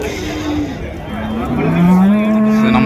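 A Holstein Friesian cow at a rural cattle market moos loudly and close, a long drawn-out low call that rises and holds toward the end, with faint background noise.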